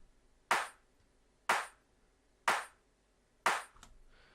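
An old-school garage clap sample in a house remix hits four times, evenly spaced about a second apart. Each hit is sharp and punchy with a quick decay, alone in silence.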